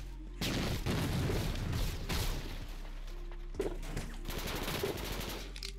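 Rapid gunfire from the fastest gun in the video game Jailbird Remastered, loud close bursts of rattling shots separated by short pauses, with booming impacts.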